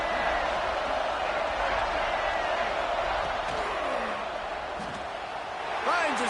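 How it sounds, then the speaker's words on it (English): A dense stadium crowd roars steadily through a goal-line stand in an American college football video game, a broad continuous wash of cheering with a few whoops rising near the end, and a commentator's voice speaks over it. "the crowd's giving them some juice"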